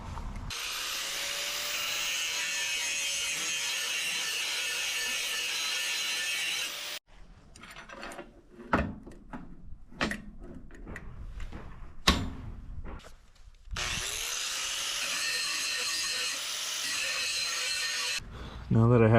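A bench grinding wheel whines steadily as it cleans rust off an old file being made into a bushcraft knife, with two long, loud grinding passes around a middle stretch of clunks, knocks and tool handling.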